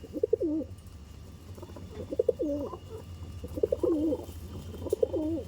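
Madrasi pigeons coo in four soft, evenly spaced phrases over a low background hum, close by and calm.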